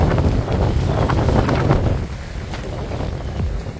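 Strong wind gusts across a seaside dyke at Arcachon under stormy, heavily clouded skies, roaring as a loud, continuous rush of noise against the microphone, with no voices.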